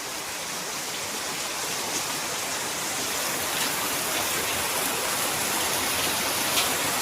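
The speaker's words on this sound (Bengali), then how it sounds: "এই জায়গাটা দেখুন কিভাবে জল পড়ছে" Heavy rain pours steadily on a flooded courtyard around a house, a dense, unbroken roar of falling water with no voices.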